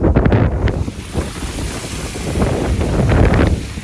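Loud rushing waterfall swollen after rain roars steadily nearby in the Lake District, mixed with wind gusting across the microphone.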